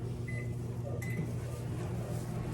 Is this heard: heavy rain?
no